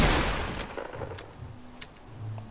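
A shotgun blasts in a video game, one sharp loud shot up front followed by a few fainter, spaced gunfire cracks with low rumbling between them.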